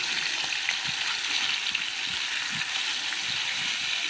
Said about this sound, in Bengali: তো এখন মাছটা ভাজা হবে এদিকে।